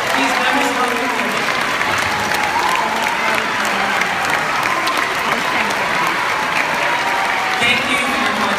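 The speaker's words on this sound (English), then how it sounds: "can we all give a very warm round of applause?" At a Leman Manhattan school closing ceremony, a large audience gives departing faculty and staff a warm, loud, sustained round of applause with some crowd noise mixed in.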